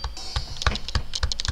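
Pads on a Korg nanoPAD2 MIDI controller are tapped in quick succession, a run of dry, close plastic clicks with no voices.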